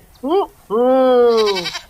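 A cartoon goat in a Hindi animated story bleats twice, a short wavering cry followed by a longer, drawn-out bleat, loud and close.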